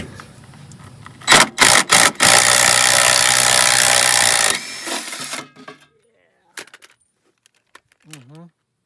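A cordless drill spinning off 17 mm rear body mount nuts on a VW Beetle, several short bursts and then one long loud run, followed by light metallic clinks and a brief voice.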